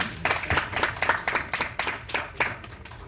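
An audience applauds at a formal event, with rapid, dense hand clapping continuing steadily for a few seconds and no voices over it.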